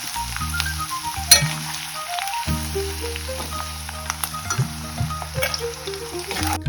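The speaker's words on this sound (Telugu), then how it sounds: "ఇట్లా లైట్గా వేగిన తర్వాత ఇప్పుడు వీటిని తీసి పక్కన పెట్టుకోండి" Ridge gourd and dried prawns frying in a pan: a steady, close sizzle with soft hissing crackles running throughout, with a musical backing underneath.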